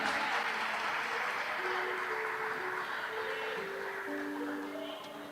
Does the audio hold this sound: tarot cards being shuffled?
no